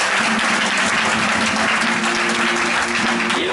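A church congregation applauds, dense, loud and continuous clapping from a close crowd that fills the whole stretch without a break.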